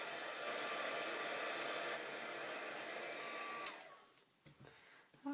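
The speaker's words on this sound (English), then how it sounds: "I'm going to take my heat tool" A craft heat tool blows hot air in a steady, loud whooshing hum while heat-setting paper gardenia petals, then cuts off and leaves a few soft handling clicks and rustles.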